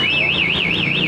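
A two-way MP alarm fitted to a Yamaha R15 V3 motorcycle wails loudly and steadily, its pitch sweeping up and down in a rapid, regular siren cycle of about five rises per second.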